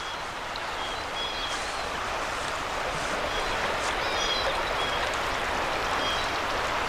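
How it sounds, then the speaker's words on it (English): A creek swollen high and muddy near a covered bridge in a small Pennsylvania park rushes with a steady broadband wash of water, constant and fairly close, with no voices. "Creek looks like it's running a little bit high and muddy."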